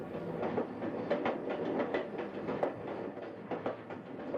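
Rhythmic clickety-clack from inside a moving train, regular clacks over a steady low rumble of wheels on rails, moderately quiet and heard from within the carriage.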